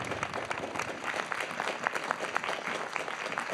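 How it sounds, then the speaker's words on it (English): Conference audience at a plenary session applauding the day's recording and graphic recording team, a dense patter of many hands clapping at moderate distance, steady for a few seconds. "So I think we should give them a round of applause."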